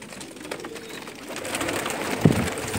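Pigeons at a nest holding chicks and an egg in Umluj, Saudi Arabia, with a soft, low coo rising briefly near the end over steady background noise.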